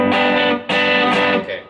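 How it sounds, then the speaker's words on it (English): Electric guitar played through a Bluesbreaker-style overdrive pedal set to its distortion mode: loud, thick, gritty chords that ring out and are restruck, with no talking. "Let's try distortion."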